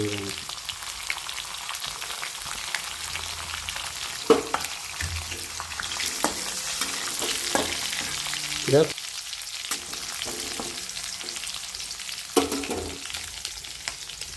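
Green chillies fry in hot oil for paneer bhurji with a continuous soft sizzle, punctuated by a handful of sharp pops and spatula knocks, moderately close, with no speech.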